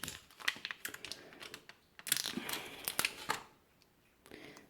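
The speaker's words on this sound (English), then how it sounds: "Let's pry this open." Small plastic clicks and scraping snaps as a 2002 Toyota Camry key remote case is pried apart by hand, a quick irregular run of close, crisp cracks and rattles with short pauses between them.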